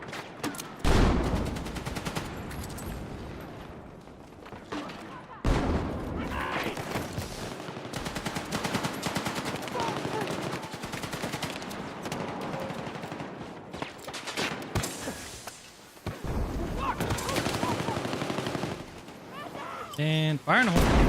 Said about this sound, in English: I gotta use my little sniper rifle.